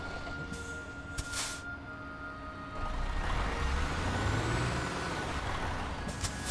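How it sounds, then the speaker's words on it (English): A heavy truck engine braking in Euro Truck Simulator 2, a low droning engine note that swells and grows louder in its second half, with a few short sharp hisses earlier on. "I love engine braking."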